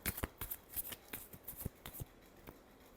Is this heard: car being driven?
no